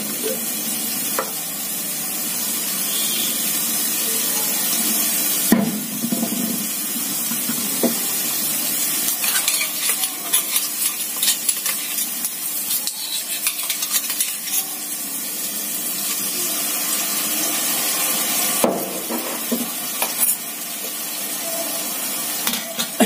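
Water splashed into a hot pan of leftover masala from a prawn dish, a steady close sizzle and hiss with scraping and stirring clicks throughout, no talking.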